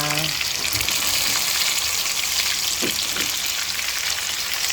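Tofu for tokwa't baboy fries loudly in a pan, a dense continuous close sizzle like heavy rain that holds steady throughout, with no talk.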